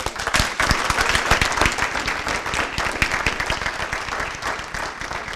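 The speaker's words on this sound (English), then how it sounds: "Ms. Gupta, let's give her a round of applause" Brisk, steady applause from the audience at a school board meeting, close and fairly loud, with dense overlapping claps sustained for about five seconds and no talking.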